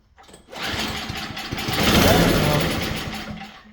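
An MTD snowblower engine with a suspected carburetor fuel problem cranks and tries to start, giving a loud, rough, sputtering burst that swells to a peak and then fades.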